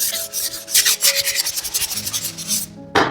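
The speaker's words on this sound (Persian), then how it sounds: "این شد مرحله سنباده کاری" Sandpaper rubbed by hand across a freshly plastered wall, a steady run of rough scraping strokes close up and fairly loud, with no talking.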